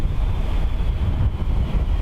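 Gusty wind at Dublin Airport, with surface wind around 14 knots gusting to 22, roars steadily and loudly across the microphone as a dense, continuous low buffeting with no talk.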